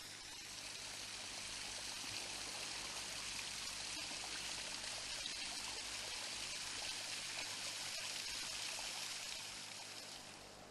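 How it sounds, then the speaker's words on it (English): Steady rushing water splashes and pours continuously, loud and close, with no voices. "Do you know I can feel that splashing on me here?"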